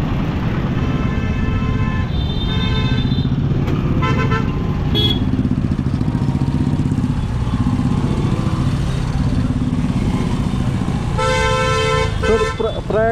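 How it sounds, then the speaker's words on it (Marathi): Car horns honk in a traffic jam on the approach to Prayagraj during the Maha Kumbh Mela. Several short toots sound over a constant loud engine and road drone, with a clustered burst near the end. "इथनंच ट्रॅफिक जामला सुरुवात झाली."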